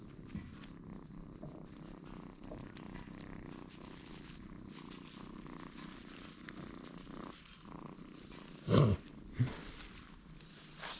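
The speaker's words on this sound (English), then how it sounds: "Silly cat." A cat purring softly and steadily among hay bales in a barn, a low continuous rumble near the listener, broken by a couple of brief louder bumps toward the end.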